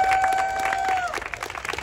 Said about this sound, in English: can you please give them a round of applause as well?